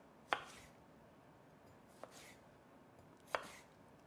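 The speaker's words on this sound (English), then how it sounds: "I'm going to chop those into smaller pieces." A knife chops celery sticks into smaller pieces on a cutting board, three sharp, isolated taps spaced a second or more apart in a quiet kitchen.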